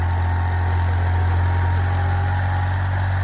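A Holland 3630 Super Plus tractor engine runs in first gear with a steady, deep droning hum and a constant mechanical throb, close and unchanging.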